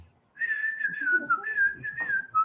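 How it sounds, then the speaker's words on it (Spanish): A high, clear whistling melody with held and gliding notes, like a small flute, alone and moderately loud. "Era la flauta que veíamos pequeña."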